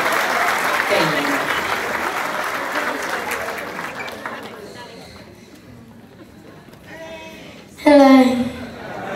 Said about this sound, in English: let's give him a hand of applause